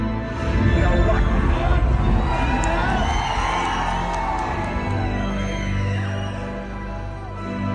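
A movie theater crowd cheers and whoops in an ovation, a loud dense wash of shouting voices that swells early and then gradually settles.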